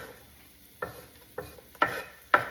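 Vegetables sautéing in a pot for a creamy potato soup, heard as a faint sizzle with four distinct stirring scrapes spaced about half a second apart, growing slightly louder toward the end.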